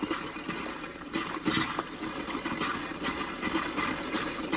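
Cold water runs steadily from a camper sink faucet as a continuous, moderately faint rushing hiss, with no talking.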